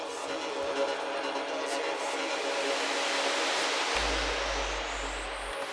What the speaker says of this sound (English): And then we've got another reverb.